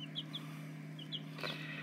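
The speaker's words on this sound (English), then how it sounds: "All these little baby chicks." Baby chicks, young Easter Egger chickens kept on a farm, give soft high peeps, a few short chirps scattered over a steady low hum, with a slightly louder burst near the end.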